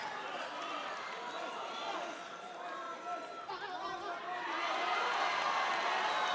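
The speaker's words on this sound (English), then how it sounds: "The crowd reacting to that flurry." At a live boxing fight night, a steady crowd roar of chatter and cheering reacts to a flurry of punches and swells louder toward the end, with a commentator's voice mixed in.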